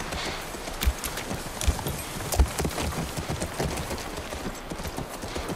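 Horse hooves clop steadily on the ground in The Last of Us Part I, a soft rhythmic gait with a few heavier thuds, fairly faint against the game ambience.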